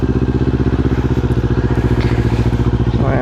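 A Kawasaki Z400 motorcycle idles while warming up before a group breakfast ride, its engine pulsing in a fast, steady, loud rhythm close by.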